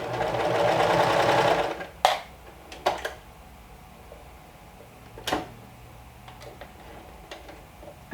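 A sewing machine stitches a knit cardigan neckband in one loud run of about two seconds, followed by a few sharp clicks and thumps of fabric and machine handling nearby.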